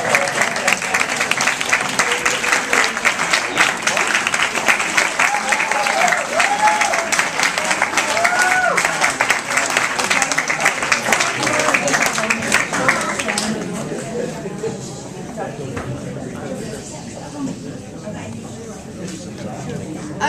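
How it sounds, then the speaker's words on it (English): Loud, sustained clapping from a large crowd at an annual meeting fills the room, then fades to scattered claps and murmuring. "give you a much deserved round of applause"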